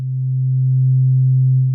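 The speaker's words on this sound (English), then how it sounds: "I prefer the sine wave out on that." A pure, steady modular synthesizer FM sine tone holds at one low pitch for under two seconds, smooth and clean, fading in and out gently.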